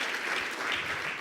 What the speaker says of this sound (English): give yourself an applaud